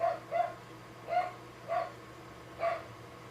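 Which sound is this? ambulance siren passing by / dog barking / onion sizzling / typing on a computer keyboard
dog barking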